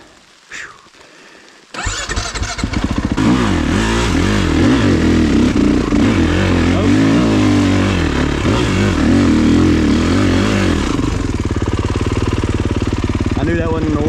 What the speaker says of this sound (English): Front tire in a mud hole, back tire up in the air to hill climb, but that may let me get the rear wheel spinning.